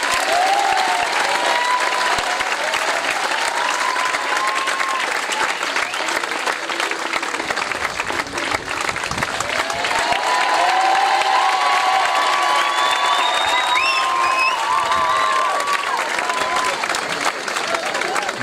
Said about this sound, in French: Et vous allez applaudir Monseigneur de sa présence.